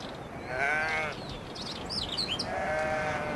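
Sheep bleat in open Chilean grazing country, two or three wavering calls spaced across a few seconds, fairly close and clear over a soft outdoor background.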